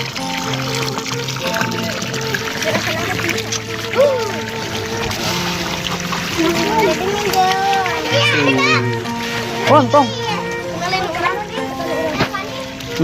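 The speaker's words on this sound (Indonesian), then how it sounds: "anak-anak lagi cuci muka" Children splash water while washing their faces beside a clear stream near rice fields, with scattered light splashes and pouring sounds under lively child chatter and adult voices.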